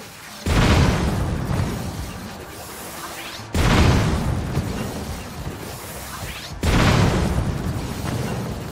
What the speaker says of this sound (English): uses balloons as a way to capture the explosions and convert them into thrust